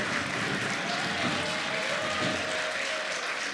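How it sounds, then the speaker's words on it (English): Steady, dense applause from an audience at a book presentation and graduation lecture, honoring a guest, continuous and even throughout with no break. "Please, another round of applause for her."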